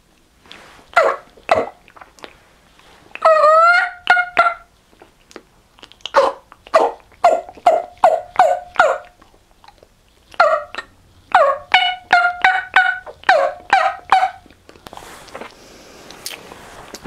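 Beginner's turkey mouth call blown to imitate a turkey hen, giving series of sharp, nasal yelps in rhythmic bursts of several notes each, loud and close, with short pauses between runs and no talking.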